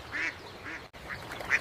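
Ducks swimming together on water quack several times in a loose rhythm, the calls moderately close with faint outdoor background.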